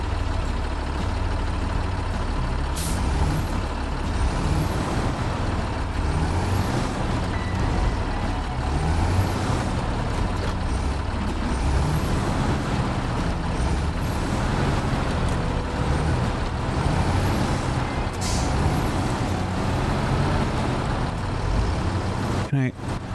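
A heavy truck in the SnowRunner video game, its engine drone loud and continuous with a few sharp hissing bursts like air brakes, no talk heard.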